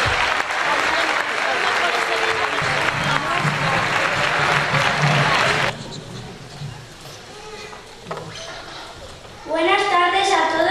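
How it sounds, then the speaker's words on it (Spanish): Audience applause at a school children's choir performance, loud sustained clapping for about five seconds, then a quieter stretch with scattered voices before a speaker begins talking. "aplauso, efectivamente"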